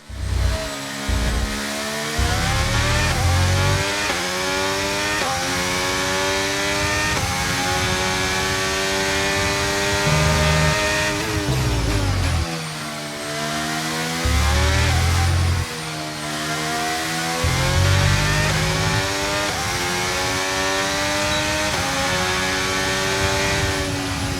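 Formula 1 cars in the F1 23 video game screaming around a circuit, high-revving engines rising and falling in pitch with repeated gear shifts, loud and continuous throughout, with no talking.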